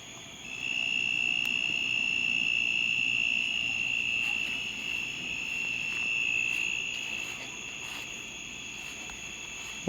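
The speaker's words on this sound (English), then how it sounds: "a tree cricket in general" A tree cricket chirps in a steady, high continuous trill that holds throughout at a moderate, constant level, with no voices present.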